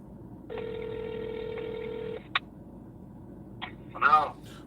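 A single long telephone ring tone on an outgoing call to Monterrey, Mexico, a steady tone lasting about two seconds over faint background noise, followed by a brief click and a short burst of voice.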